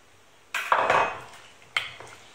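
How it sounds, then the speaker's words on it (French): A utensil clatters twice against a bowl while a small Moroccan salad of diced shallot is mixed: two sharp scraping knocks, close and fairly loud, each tailing off quickly. "je mélange ma petite salade et je la laisse de côté"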